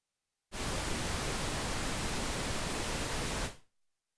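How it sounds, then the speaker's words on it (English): A white noise test signal is fed through a Soundcraft Ui24R mixer at an amateur radio station. It switches on abruptly, holds as a flat, even hiss for about three seconds, then cuts off. "So we'll go ahead and turn on our white noise."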